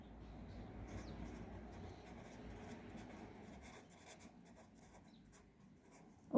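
Chalk or marker rubs and scratches steadily across a board as nutrition notes are written during a lecture, a soft continuous scraping with a sharp tap at the end, no speech.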